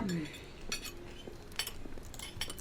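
Plates clatter and clink as they are cleared and stacked in the restaurant game Kebab Chefs, a few light scattered knocks and chinks at low level with a brief voice-like tone at the start.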